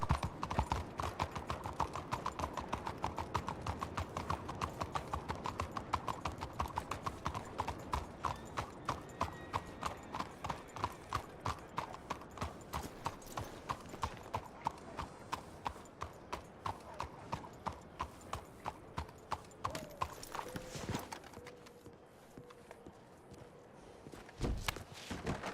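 Hooves of a ridden horse walking through snow, a steady, evenly paced clip-clop that runs close and clear for most of the stretch before thinning out near the end.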